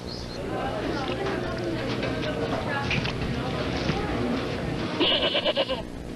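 A goat bleats in a fast-food sandwich commercial, its cries rising a few times over a busy, noisy mix with constant talk and background sound throughout.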